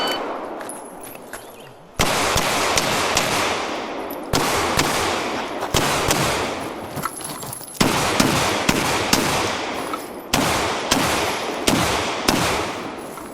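A Smith & Wesson M&P9 M2.0 Performance Center pistol firing at a USPSA classifier match outdoors, loud close sharp shots in fast strings separated by brief pauses, with no talking.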